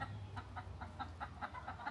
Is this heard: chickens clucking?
yes